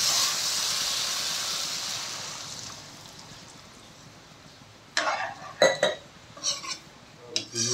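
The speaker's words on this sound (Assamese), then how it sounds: "পুৰা ড্ৰাই ফ্ৰাই হৈ গৈছে এতিয়া পানী দিওঁ" Water poured into a pan of dry-fried pork and tomatoes, first a loud hissing steam burst that fades, then clattering scrapes of a utensil against the pan.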